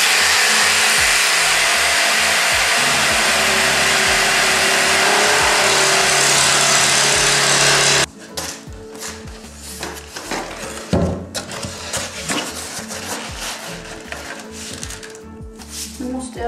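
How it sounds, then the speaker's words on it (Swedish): A power saw cuts flooring during an apartment renovation, a loud steady whining roar for about eight seconds that stops abruptly, followed by clattering, handling knocks and talk. "ska ju då såga ut golvet baserat på de här grejerna"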